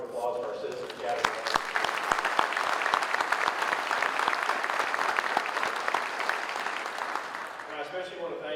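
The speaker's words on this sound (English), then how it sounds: "if I could get a round of applause for our Citizen Academy" Audience at a sheriff's office promotions ceremony applauds the Citizen Academy, steady dense clapping sustained and fairly loud throughout, with no one speaking over it.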